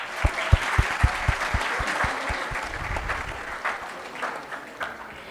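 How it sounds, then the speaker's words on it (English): A moderate round of applause from an audience at an international STEAM conference, with sharp individual claps early on that soften and thin out as it continues. "Let's welcome him with a heartfelt round of applause."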